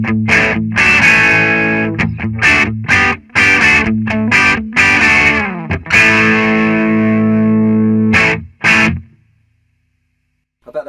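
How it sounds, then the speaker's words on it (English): An electric guitar plays through a Marshall DSL 40c valve combo on the clean channel with the gain turned up, a warm, slightly driven run of strummed chords and riffs with short gaps, ending in a brief pause and silence. "as we give it a little bit more gain on the clean channel, it just warms up."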